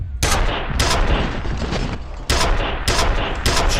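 Gunshots in a spooky night-themed video game, several loud sharp blasts in uneven bursts, each cracking out and decaying into a noisy tail.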